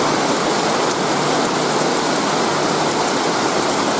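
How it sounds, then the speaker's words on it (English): Steady rainfall across a yard during a rare dry-season shower, a constant broadband hiss with faint scattered drop patter, near and unbroken, no talking. "The rain must be coming just a little bit from the north."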